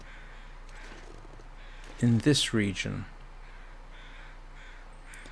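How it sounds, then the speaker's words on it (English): Crows caw in The Long Dark, a short burst of several harsh calls midway through, close and fairly loud over a quiet wind-like background, with a voice briefly speaking. "Oh, look at that. There are crows."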